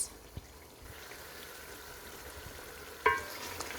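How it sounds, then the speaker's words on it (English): Masala spices of paprika, coriander and garam masala being stirred into a chicken and chickpea curry, a low steady sizzle with a couple of sharp clinks of a utensil against the pot, with no talking. "Giving it a good mix and letting the masala cook for about a minute or so before I add in the chickpeas."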